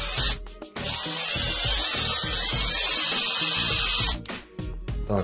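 A cordless screwdriver with a flexible shaft extension drives a screw: a sustained high-pitched motor whine runs steadily for several seconds, then stops and starts again with a short burst, loud and close, with no talking.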